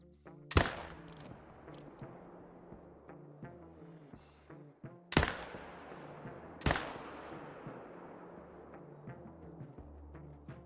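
Rifle shots at animals in a hunting video game, three loud sharp reports spread across the stretch, each with a long rolling echo, over a low steady game ambience, no talking.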